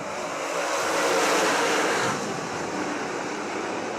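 Race cars accelerate at a Michigan Corn Growers Association 40 heat race as the green flag restarts the field, a dense, loud engine roar that swells and then holds steady, with no commentary over it.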